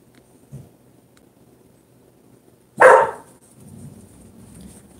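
A pet dog gives one loud, sharp bark indoors, preceded by a faint short sound and followed by quiet room noise.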